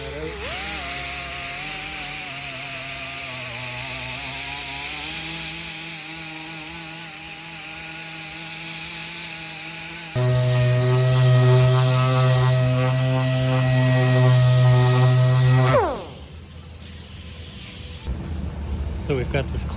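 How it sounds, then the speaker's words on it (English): A power tool grinding paint out of a hole in a plastic car bumper gives a steady whining motor drone that shifts in pitch and load partway through, then winds down, loud and close throughout. "Grinding that out."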